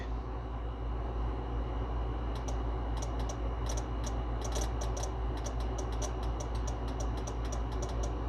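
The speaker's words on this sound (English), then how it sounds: "So that means that the relay is clicking." Sharp, quick relay clicks from a radio being hardwired in a Nissan S14 tick in an irregular series over a steady low mechanical hum, starting a few seconds in and repeating closely.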